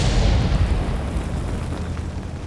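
An artillery shell bursts in World of Tanks on the Live Oaks map, a loud close boom at the start that rolls off into a long rumbling decay.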